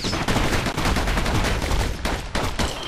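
Twin slinger pistols in the game Bastion fire a relentless, loud stream of rapid shots, packed tightly together with only a couple of brief gaps.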